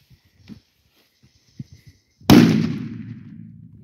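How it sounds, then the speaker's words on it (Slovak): A Big Bang 8G firecracker holding 8 grams of powder goes off at a holiday pyrotechnics session with a single loud, sharp bang and a long rumbling echo, after a few faint taps and rustles. "8 gramov petarda."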